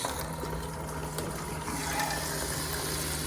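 Steady rushing water as a pump pushes pink RV antifreeze through the bathroom plumbing of a 2017 Grand Design Imagine travel trailer, a continuous close gush and hiss over a low hum with no talking.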